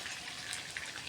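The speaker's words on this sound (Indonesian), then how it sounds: "Ini kita tambahkan sedikit air" Water splashing into a pan of tuna rendang, a short, steady wash of hissing liquid with a faint sizzle underneath.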